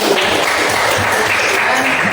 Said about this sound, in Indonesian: Jadi tepuk tangan buat bersama.